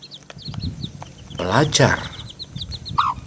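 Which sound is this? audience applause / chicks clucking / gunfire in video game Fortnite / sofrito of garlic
chicks clucking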